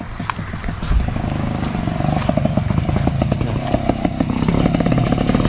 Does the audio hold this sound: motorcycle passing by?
yes